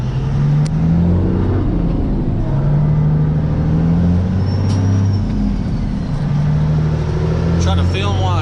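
A vehicle drives along a sketchy stretch of highway, its engine droning loud and steady with low rumbling tones that step in pitch as gears shift, plus road noise throughout.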